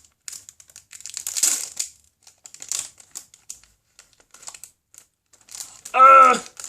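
Packaging around a cheap set of earrings is opened by hand, with several short, sharp crinkling and crackling bursts separated by quiet gaps, ending in one louder rustle with a brief voice.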